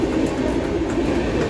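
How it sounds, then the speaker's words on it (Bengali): A train passes alongside at Balasore railway station, a brief steady rumble of wheels and rail noise heard close by. "সেদিকে একটা ট্রেন পাস করে যাচ্ছে,"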